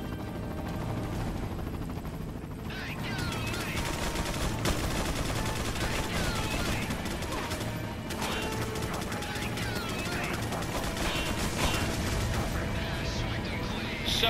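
Gunfire in the Resident Evil 4 video game as a tower is shot at, a dense continuous burst of rapid, loud shots with mechanical clatter layered underneath, with voices talking over it.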